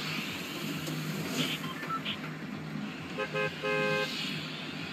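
Car horn honking in the Fortnite video game, a few short tonal toots near the end over steady in-game background noise.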